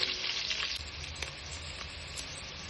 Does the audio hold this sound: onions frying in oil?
yes